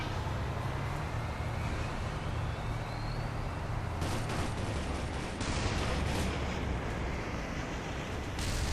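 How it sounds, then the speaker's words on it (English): Artillery bombardment in Enemy Territory: Quake Wars, a dense, continuous rumble of blasts and distant impacts, steady and loud with a few sharper bursts partway through. "Incoming bombardment!"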